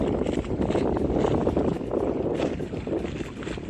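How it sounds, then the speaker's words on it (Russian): Strong side wind gusting across open water around a small fishing boat, a continuous rushing roar with wind buffeting the microphone throughout, no talk. "Да, поднялся сильный боковой ветер."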